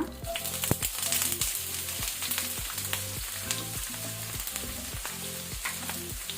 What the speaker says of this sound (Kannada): ಈಗ ಇಲ್ಲಿ 2 ದೊಡ್ಡ ಈರುಳ್ಳಿ ಹಾಕೋಣ.